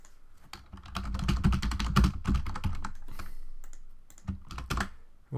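Typing on a computer keyboard comes through as a quick close run of key clicks, then a few slower taps and a final burst, with no voices.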